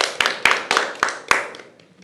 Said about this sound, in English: Round of applause, player number 7.